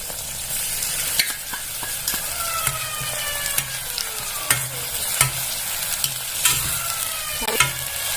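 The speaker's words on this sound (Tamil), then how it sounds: "இஞ்சி பூண்டு பேஸ்ட் நல்லா வதங்கிடுச்சுங்க" Ginger garlic paste sautés with golden-browned onions in a pan for tomato rice, a steady close sizzle punctuated by repeated scraping strokes and clinks of a spatula stirring the mixture.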